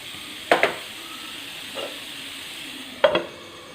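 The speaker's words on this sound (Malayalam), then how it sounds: "ഇടയ്ക്കൊന്ന് ഇളക്കി കൊടുത്താൽ മതി." Beef liver fry, Kerala style, is stirred in a pan: two sharp spatula scrapes and one softer one land over a quiet, steady sizzle.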